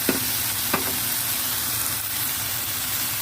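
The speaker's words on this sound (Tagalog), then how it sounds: "At ihalo-halo lang natin dito sa ang kanin at saka yung kimchi." Kimchi fried rice with bacon being stirred in a frying pan: a continuous close sizzle with two sharp scraping clinks of the spatula near the start, then steady frying hiss.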